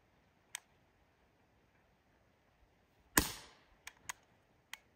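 A new gun fires during a shooting contest at a campsite: one sharp, loud shot with a brief trailing ring, surrounded by several faint, quick clicks and taps in otherwise quiet outdoor air.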